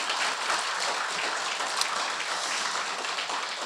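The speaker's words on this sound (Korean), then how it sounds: "여러분 박수를 한번 보태 주십시오." An audience claps to welcome a professor at a Korean studies lecture, giving steady, dense applause from a full room that holds evenly for the whole stretch with no voices over it.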